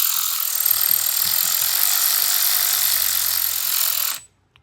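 A ratchet tightens fasteners on a 2003 CVO Deuce motorcycle, giving a loud, continuous close-up whirring for about four seconds before it stops abruptly.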